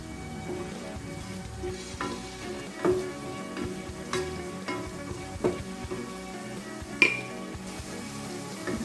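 Potatoes and vegetables fry in a pan, a low continuous sizzle broken by repeated sharp spatula clinks and scrapes as they are stirred, close and moderately loud.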